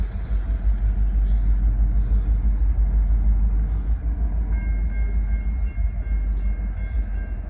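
NSJ40 freight train hauling scrap cars out of a siding toward a scrap yard in Princeton, West Virginia: a heavy continuous diesel rumble with clanking wagons and a brief higher tonal squeal, fairly close.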